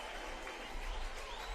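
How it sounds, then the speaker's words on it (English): Baseball crowd cheering and applauding at an NCAA college game in Tallahassee, Florida State against NC State, a steady dense wash of clapping and roaring that swells slightly toward the end. "all of a sudden, the crowd coming alive once again"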